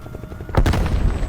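A single sharp grenade blast bursts out mid-clip in Call of Duty: Black Ops Cold War, a booming explosion with a brief rumbling tail over a low, steady background.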